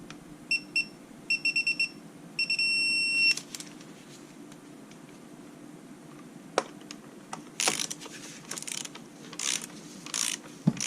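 Ratchet clicking while tightening valve cover and intake bolts on a 2008 Dodge Charger 3.5L V6 under rebuild, with bursts of quick ratcheting clicks early and scattered metallic clinks and handling noises nearby.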